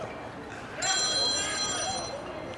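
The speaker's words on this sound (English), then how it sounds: "Someone's getting a phone call downstairs." A telephone rings downstairs during a high school boys' varsity soccer game, a bright electronic trill that starts abruptly and rings steadily for over a second under faint background noise and murmuring voices.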